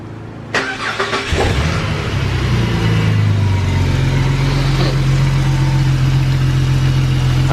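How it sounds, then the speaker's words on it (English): Ford FG car fitted with a cold air intake cranks and fires up, then settles into a loud, steady idle with a deep low hum, close by and with no talking. "Alright, so we started her up."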